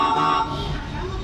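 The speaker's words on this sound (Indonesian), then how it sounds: "Untuk klakson ini guys" A children's battery-powered ride-on car's loud electronic horn honks with a steady, tonal blare, then fades into lower noise within about a second.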